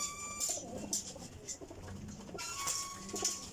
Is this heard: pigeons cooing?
yes